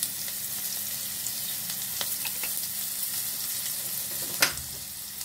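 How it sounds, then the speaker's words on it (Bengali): Chopped onion frying in mustard oil with bay leaf, cinnamon and cardamom gives a steady, close sizzle that holds throughout, broken once near the end by a brief sharp clink. "ভেজে নিচ্ছি"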